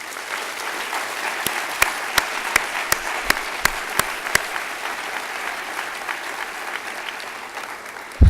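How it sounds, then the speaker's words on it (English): Audience at a 2018 diversity, equity and inclusion summit applauding implementation leads, a sustained medium-distance round of clapping from a large crowd with a few sharp individual claps standing out. "Let's give them a round of applause."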